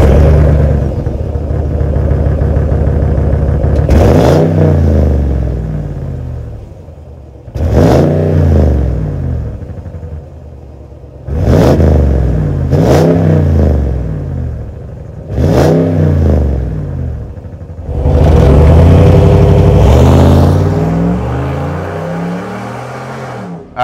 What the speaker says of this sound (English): that was the sound of the Ram 1500, the Flowmaster Super 10 series muffler